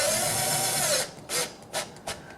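A self-tapping screw driven by a power driver into the tailgate of a VW T5 or T6 campervan while fitting a blackout curtain: a steady close whir for about a second, then stopping, followed by a few short bursts.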